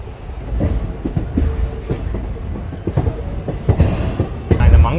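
The Mangalore Intercity train passes Madukkarai railway station on the Walayar ghat section, a loud close rumble of rolling wagons with rhythmic wheel clatter that grows heavier toward the end.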